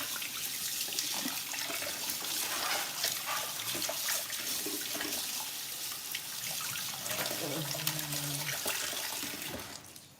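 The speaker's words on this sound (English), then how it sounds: "I'm gonna wash my hands" Tap water runs steadily into a kitchen sink as hands are washed, a constant close splashing hiss with brief dull knocks and a faint murmur of voice underneath.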